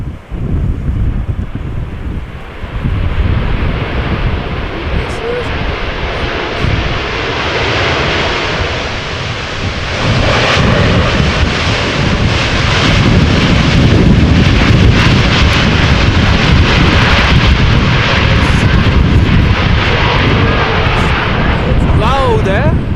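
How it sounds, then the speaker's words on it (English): A Boeing 787 Dreamliner touches down at Amsterdam Schiphol in gusty crosswind, its thrust reversers building into a loud, sustained roar that swells partway through, with wind buffeting the microphone and voices talking over it. "Always when they use the reversers, it is loud."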